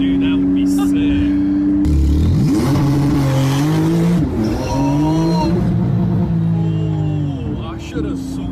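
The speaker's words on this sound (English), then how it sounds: "it said launch mode activated, and it just took off" A Porsche 911 Turbo accelerates hard in launch mode. The engine roars loudly and rises in rapidly climbing pitch sweeps through the gears, with brief shift dips, and voices talk over the roar.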